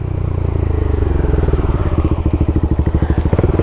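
Large single-cylinder 700cc motorcycle engine thumping loudly up close, its rapid pulses sharpening and growing more distinct as it revs under load.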